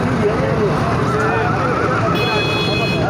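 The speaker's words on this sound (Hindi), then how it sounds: "चलो जनाब एक घोड़ा जोड़ा है घोड़ा सावे रंग का" A grey horse whinnies at a livestock market near Kasur Road, the call carried over a steady, loud crowd murmur and traffic-like rumble with people talking throughout.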